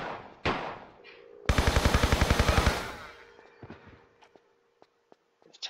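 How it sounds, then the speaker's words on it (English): A burst of rapid MP5 submachine gun fire in the video game Tomb Raider 3, a loud fast rattle lasting over a second, framed by single sharp shots, clanks and light footsteps that fade toward the end. "Lots of MP5 ammo, so we're gonna use this."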